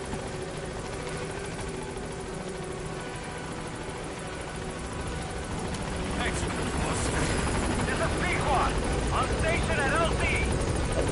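The Pequod helicopter in Metal Gear Solid 5 arrives at the landing zone, its steady rotor thrum droning throughout and growing louder in the second half, with voices talking over it.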